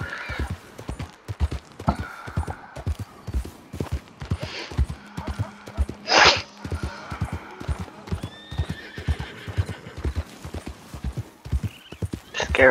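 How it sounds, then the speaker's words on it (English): Horses in the video game Red Dead Redemption 2 gallop with a steady, rhythmic clip-clop of hooves, close and loud, broken by a sharp whinny midway and fainter neighs later, while a voice talks over them. "Scaring some horses."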